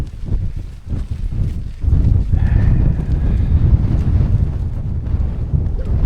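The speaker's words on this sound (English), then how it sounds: "It's too windy, too cold." Steady, loud wind buffeting the microphone at a tent camp on Haycock, a dense low roar that strengthens after a couple of seconds and keeps blowing without letup.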